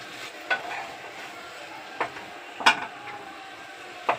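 Peas, about a cup, sizzle steadily in masala while a spoon scrapes and knocks against the pan every second or so, close and fairly quiet.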